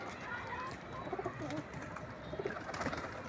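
Female pigeons being released, giving soft, faint coos against steady outdoor background noise, with a few low bursts of calling scattered through.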